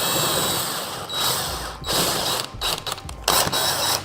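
Large bolts go in to attach a seat backrest, a close, steady mechanical whir from a driver that breaks into short choppy ratcheting bursts toward the end, with no talking.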